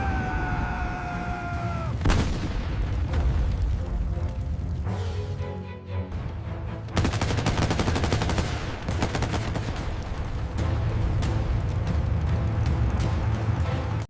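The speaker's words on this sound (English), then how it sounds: "Shells impact the Abrams, but its composite armor, designed for modern anti-tank rounds, shrugs them off." Tank battle with shells striking the composite armor of an M1 Abrams tank: dense, continuous rapid gunfire and blasts fill the scene with loud sustained rumbling, plus a brief rising siren-like tone at the start.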